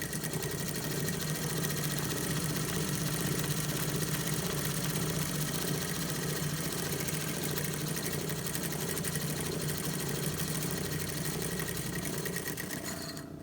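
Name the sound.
sewing machine stitching shirt with dull needle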